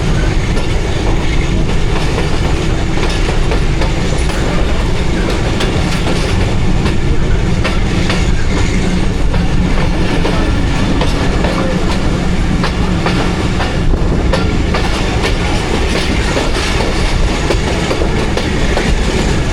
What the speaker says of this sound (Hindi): तो आलमोस्ट 15 मिनट डिले के साथ चल रही है ट्रेन